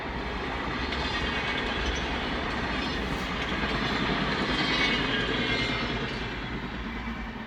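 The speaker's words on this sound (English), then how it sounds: "Let this train go past." A train rolls steadily past nearby, its continuous rumble and rail noise holding loud and even for the whole stretch with no talking.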